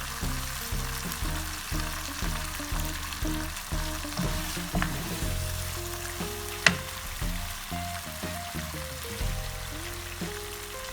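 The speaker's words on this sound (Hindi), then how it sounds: "देखिए 4 से 5 मिनट तक मैंने इसको अच्छी तरह भूना है।" Chicken for kachnaar fries in a pan with a continuous close sizzle and a rhythmic series of scraping stirs, plus one sharp clank of a utensil against the pan partway through; nobody speaks.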